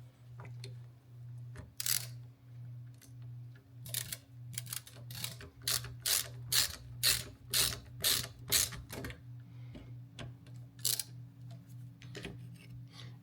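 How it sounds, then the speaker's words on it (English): Rapid ratchet clicks in repeated bursts as Torx T30 screws are tightened on a Jaguar XK8 convertible window regulator, close and crisp over a steady low hum, with pauses between strokes. "screws in here and do them up with a Torx. With a Torx T30."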